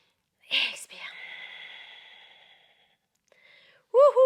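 A forceful, breathy exhale during a Pilates exercise, a sharp hiss of air followed by a long, fading breath, up close and fairly loud, then a brief voice at the end.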